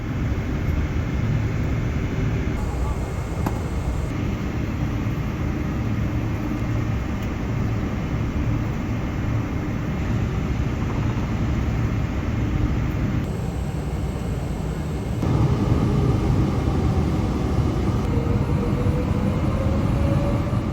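Steady, loud roar of a Cathay Pacific Boeing 777-300 jet cabin before takeoff from runway 07 right, a broad continuous hum that swells slightly louder near the end, with no voices.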